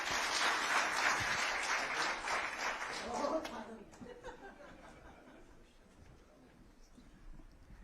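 Audience applause at a public event with the chief minister opening projects, a sustained loud wash of clapping that fades out after a few seconds, with some talk and murmurs underneath.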